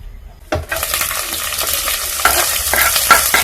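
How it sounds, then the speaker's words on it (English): Onions dropped into a little hot oil in a soup pot, starting with a sudden loud hiss that settles into a steady crackling sizzle, with occasional utensil clinks and stirring, no talking. "And you're going to go in with the onions."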